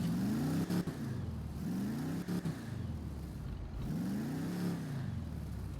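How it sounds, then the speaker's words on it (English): An imported car's engine revving repeatedly in GTA 5, pitch rising and falling in three swells, loud and close with a continuous low rumble. "We'll hop in, we'll give her a rev"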